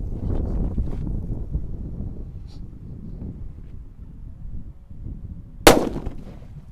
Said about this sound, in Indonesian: ini adalah mercon buntelan kertas yang pertama yang kita nyalakan